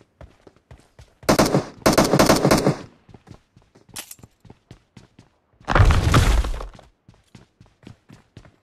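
Automatic gunfire in the mobile battle-royale game PUBG Mobile: two close bursts of rapid shots, a brief single crack, then another loud sustained burst, with quieter intermittent shots ticking throughout.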